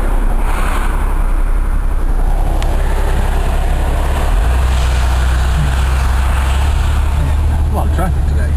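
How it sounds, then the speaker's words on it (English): Road traffic rolls past near a house, a loud, continuous low rumble and wash of noise that fills the whole stretch without letting up. "A lot of traffic today."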